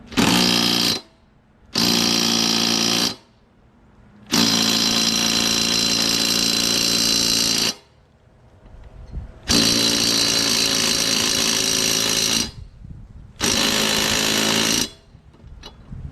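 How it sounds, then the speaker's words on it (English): Impact wrench tightening a lawnmower nut with a 15/16 socket on a Troy-Bilt Briggs & Stratton mower, five loud close bursts of rapid hammering, separated by short pauses. "Just have to impact this on there nice and tight"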